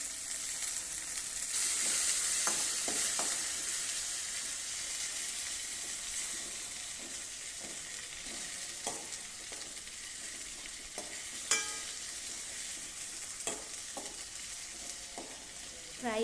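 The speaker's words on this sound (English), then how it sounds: "Fry it for 2 minutes. In medium flame." Tomato frying in a pan over medium flame for potato curry, a steady soft sizzle with scattered stirring scrapes and occasional sharper clicks, faint and even throughout, with no voices.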